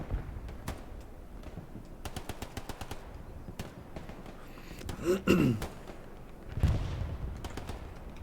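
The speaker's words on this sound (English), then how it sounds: "Another AT cannon here." Gunfire in a video game match with an anti-tank cannon nearby, sharp repeated shots and bursts crackling across the mix, a couple of heavier booms standing out midway, with a commentator's voice faintly underneath.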